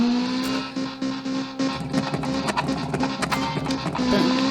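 A manual-transmission rally car in a video game revs its engine with a sustained tonal whine, punctuated by a string of sharp backfire pops that crackle through the second half.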